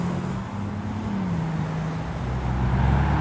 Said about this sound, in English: brand new Vanquish